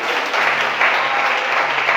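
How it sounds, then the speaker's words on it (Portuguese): Worshippers in a church break into strong, sustained applause, a thick roar of clapping from many people, loud and unbroken. "Você pode aplaudir o Senhor Jesus bem forte"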